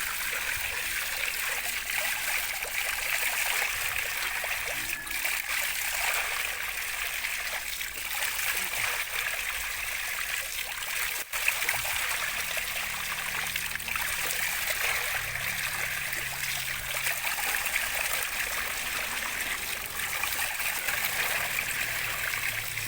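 A natural stream of clear water flows steadily, a constant close hiss and trickle with soft gurgles underneath, no voices present.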